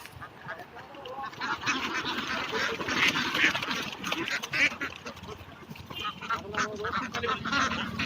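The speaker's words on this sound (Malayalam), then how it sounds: "അതാണ് പൂവൻ താറാവ്" A flock of Kuttanad ducks quacking close by, including a dark green-headed drake, with dense overlapping calls throughout and faint voices beneath.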